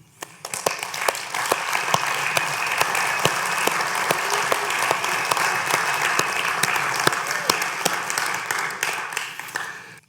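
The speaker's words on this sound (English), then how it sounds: "let us applaud you." A sustained round of loud applause from a church congregation, dense steady clapping that swells in quickly and holds for several seconds before tapering.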